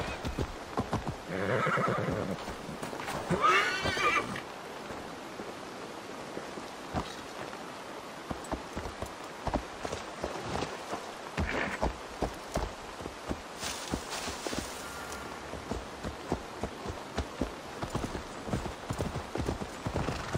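Horse hooves clip-clop steadily over ground with repeated neighs and whinnies in Assassin's Creed Valhalla, a Viking-era game, with faint rain-like patter in the background and no talk.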